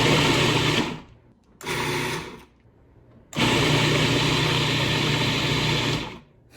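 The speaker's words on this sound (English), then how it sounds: "scared to the sound of the blender" A kitchen blender whirs in three separate bursts: two short pulses of about a second each, then a longer run of roughly three seconds, loud and close with a high mechanical whine and no voices.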